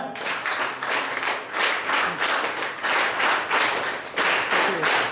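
At the closing prize ceremony of an alcohol de-addiction camp, a gathered crowd claps for a prize winner, many hands beating in lively waves that swell and dip every half second or so, close and fairly loud.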